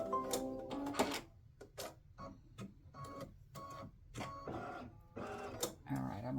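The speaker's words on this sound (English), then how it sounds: "color stop is going to stitch another top stitch right on top of the satin stitching, the orange satin stitching" An embroidery machine stitches a top stitch over orange satin stitching for a Halloween cowboy ghost patch, giving rapid bursts of mechanical needle clatter broken by short pauses, close and fairly quiet.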